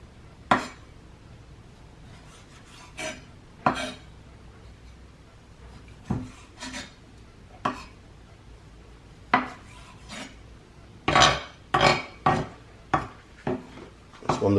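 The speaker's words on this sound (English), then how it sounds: "with the grape tomatoes, we just slice them in half" Knife slicing grape tomatoes in half on a board for a creamy seafood pasta salad, a string of sharp, separate chops and taps up close, spaced irregularly and growing quicker toward the end.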